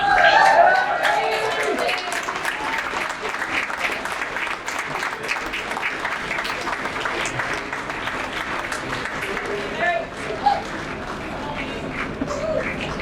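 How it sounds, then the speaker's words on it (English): Audience applause fills a hall of fame induction ceremony for BC football, a steady dense clapping that swells at the start and holds evenly for about thirteen seconds, with some crowd murmur beneath. "Give them a nice round of applause"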